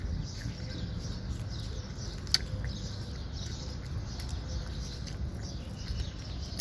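Birds calling outdoors during a harvest of kamatsili fruit, faint repeated chirps in the distance over a steady low rumble of ambient background noise, with one brief sharp click partway through.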